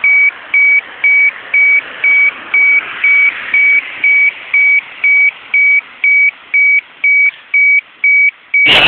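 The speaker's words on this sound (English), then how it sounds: "The alarm is repeating in my town" A town radiation monitoring alarm in Oyama, Japan sounds as a loud, steady series of evenly spaced electronic beeps, repeating roughly twice per second for the whole stretch, ending with a short click.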